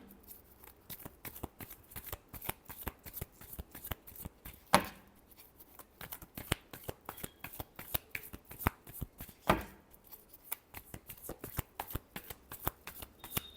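A deck of tarot cards being shuffled over and over in rapid, rhythmic bursts of papery riffling, with two sharper slaps of the deck along the way and no talking.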